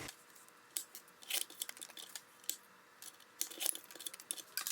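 Scissors snip through paper pieces for a crafting project in a quick irregular series of close, quiet crisp cuts with light rustling between.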